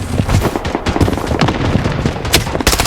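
Rapid gunfire from the mobile shooter game Blood Strike, dense bursts of automatic shots crackling continuously and loudly, with sharper single reports punctuating the stream and no talk over it.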